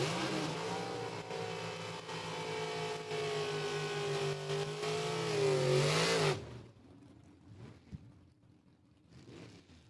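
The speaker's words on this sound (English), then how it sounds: "Couple of abbreviated burnouts right there." A 62 Chevy II drag racing car does a short burnout at a dragstrip, a loud sustained engine roar with wavering pitch for about six seconds before cutting off, leaving faint distant noise.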